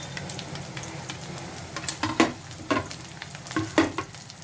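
Chopped onion, garlic and green chili frying in oil in a pan, a steady close sizzle with several sharp bursts of stirring and spatula scrapes partway through, no talk.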